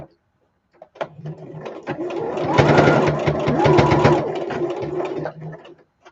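Sewing machine running in one continuous burst of rapid stitching for several seconds while sewing eyeballs onto a project, close and fairly loud, with brief handling clicks before and after.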